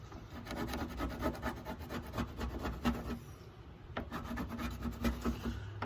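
A worn pad scrubs decal gunk off Jeep paint in quick, rhythmic back-and-forth rubbing strokes, close and clear, pausing briefly midway before resuming.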